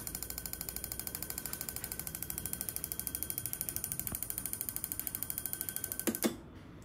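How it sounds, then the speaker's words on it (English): DENSO diesel injector firing on a CRDI test simulator, a rapid, even train of sharp mechanical ticks that repeats steadily for several seconds, faint and close, then stops abruptly near the end. "the trigger is blinking, injector is firing"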